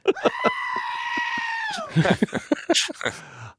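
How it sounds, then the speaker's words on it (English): A goat screams in a long, loud, wavering bleat that bends downward at the end, followed by a burst of shorter strained cries; it is a stock screaming-goat sound effect from Apple Final Cut Studio. "this is actually a stock scream sound effect from Apple Final Cut Studio"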